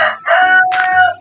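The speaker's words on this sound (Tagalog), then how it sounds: "Oh no, may manok." A chicken in a video game lets out a short burst of loud, close clucking calls, a few quick tonal squawks heard on their own with no talk.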